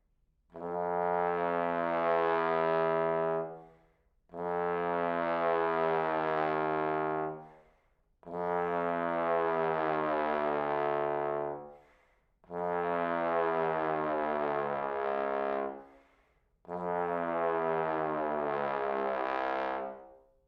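Five long, sustained low tenor trombone notes, each held for a few seconds with short pauses between, played alone and moderately loud.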